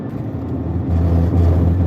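A loud truck rumbles past close by in Alaska, a heavy low-pitched engine drone that swells and grows louder partway through, with some wind noise.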